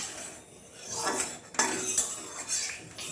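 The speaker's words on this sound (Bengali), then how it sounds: "তেলটাকে এবার কড়াইয়ের চারপাশে ভালো করে ছড়িয়ে দিচ্ছি" A metal utensil scrapes and clinks around a hot wok while mustard oil is spread across its surface, several close scraping strokes over about three seconds with no talk.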